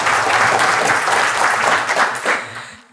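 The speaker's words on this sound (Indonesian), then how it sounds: "Tepuk tangan lu buat Anda semua ya" Indoor audience applauding at a health talk on disease prevention, a dense, steady wash of many hands clapping that stays loud throughout and thins slightly near the end.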